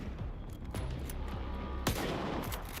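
Gunfire in S.T.A.L.K.E.R. 2 cracks out in scattered, irregular shots, several sharp reports close together with one heavier bang near the end, moderately loud against a steady game backdrop.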